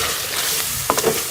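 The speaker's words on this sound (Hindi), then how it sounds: "हम इसको अच्छी तरह से तेज़ आंच पे जो है वो क्रीम के साथ भून लेंगे बीफ को" Beef frying with cream over high heat in a karahi, a steady close sizzle with a couple of brief stirring scrapes near the end.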